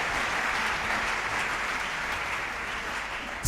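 A church congregation applauds during a Sunday service, steady dense clapping holding throughout at even loudness, with a sharper burst at the very end.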